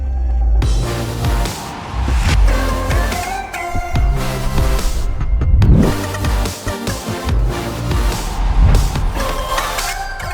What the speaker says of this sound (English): We're actually just making our way in the taxi back to our hotel